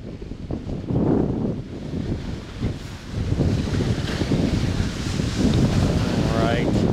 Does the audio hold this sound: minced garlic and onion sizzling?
no